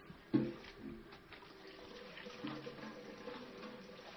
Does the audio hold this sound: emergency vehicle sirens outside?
no